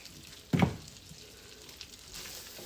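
Green beans sautéing in a pan, a soft continuous sizzle with one brief thump as they are tossed or stirred, quiet and close with no talking.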